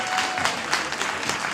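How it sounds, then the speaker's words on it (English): Crowd applause for athletes at a junior weightlifting championship, a dense burst of many hands clapping, steady and fairly loud throughout the short stretch. "A round of applause please for our athletes, for our referees, for our fantastic platform crew"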